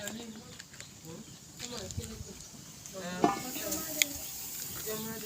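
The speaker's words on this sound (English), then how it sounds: "Water is boiling." Bubbling water boiling in a pot, a steady soft simmer with a few sharper pops, heard close under background voices.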